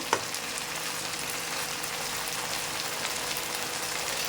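Chicken fry crackles in oil in a pan, an even, dense sizzle that holds steady and fairly close with no voices, one small tap near the start.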